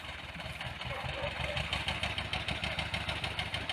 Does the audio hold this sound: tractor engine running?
yes